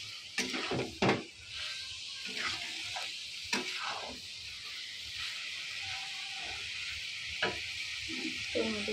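Soya chunks are stirred in a frying pan, with a soft steady sizzle under scattered scraping knocks of a spoon against the pan.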